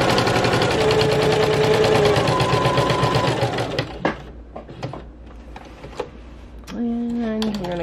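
Sewing machine stitching a fabric postcard, running in a loud steady whir that stops near the four-second mark, followed by a few clicks and light handling, then a short burst of stitching again near the end.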